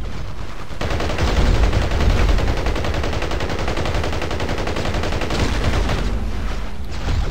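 Sustained automatic gunfire in the video game Battlefield Heroes, dense rapid bursts rattling continuously for several seconds, loud and close with no talking.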